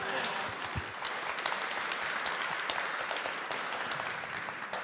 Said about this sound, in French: Vous pouvez applaudir toute l'équipe